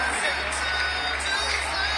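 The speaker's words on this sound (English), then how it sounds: "A big round of applause to Azim Allah" A large crowd applauds and cheers for the para-athletes' overall champion at the International Purple Fest closing ceremony, a steady wash of distant clapping and crowd noise over a low hum, with voices mixed in.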